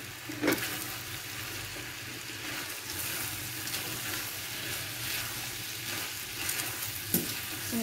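Spoon stirring chicken stew in a stone cooking pot, a soft continuous bubbling and scraping with a few sharper clinks against the pot, fairly quiet and with no voices.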